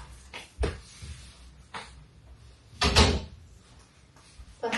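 A door at home is pushed open, giving several soft knocks and rattles and one heavier thump, close by, with no talk.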